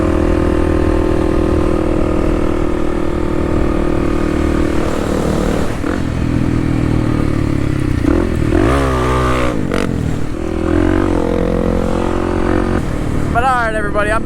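A Kawasaki KLX300 dirt bike revs and roars continuously while riding wheelies, its engine pitch rising and falling through acceleration sweeps, loud and close, with wind buffeting and a voice talking over it.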